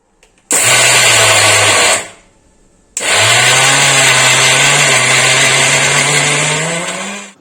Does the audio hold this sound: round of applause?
no